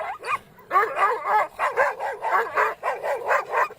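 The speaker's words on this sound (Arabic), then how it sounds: "طلع لك كلاب وهاتك يا هوهوه" A pack of street dogs barks and yips in quick, overlapping bursts, close and fairly loud, with whining tones between the barks.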